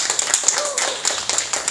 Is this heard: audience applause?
yes